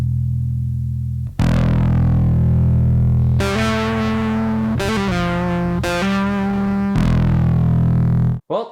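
A bass guitar played through a Boss ODB-3 Bass Overdrive pedal with the gain raised gives loud, buzzing, distorted notes that sustain long. Several notes change in sequence with no talking.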